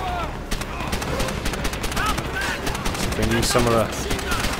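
Rapid bursts of gunfire from a Call of Duty: World at War battle crack in quick succession, fairly close and loud, with someone talking over the shooting near the end.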